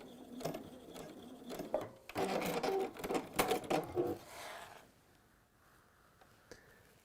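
Sewing machine stitching a bag runs in short uneven bursts, louder and busier in the middle, then fades to quiet handling noise near the end, close and alone.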